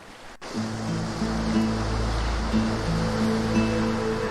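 Ocean waves lapping in the video game Divinity Original Sin 2, a soft steady wash of surf under low sustained tonal music.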